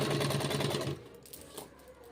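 An electric sewing machine stitches along the folded edge of suit fabric in a fast, steady mechanical chatter for about a second, then stops, leaving quiet room tone with a light clack.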